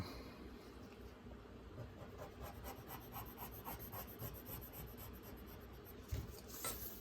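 Pencil or pen thickening the lines of a drawn ladder on paper, a soft continuous rubbing scratch of steady strokes, close and faint, with no talking.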